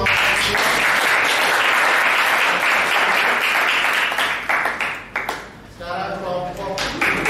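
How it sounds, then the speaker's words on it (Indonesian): Loud, dense applause from a group fades out, followed by a few scattered claps and a voice speaking. "Oke, tepuk tangan untuk"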